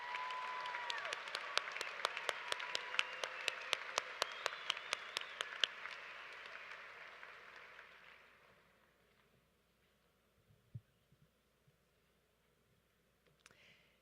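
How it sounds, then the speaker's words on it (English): A high school graduation crowd claps loudly with sharp individual claps standing out, then the applause fades over about eight seconds into near quiet with a few scattered sounds. "You deserve another round of applause."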